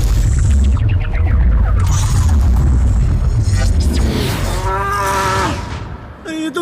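Cows mooing in a drawn-out, wavering call, loud and close, over a heavy low rumble with other sounds mixed in.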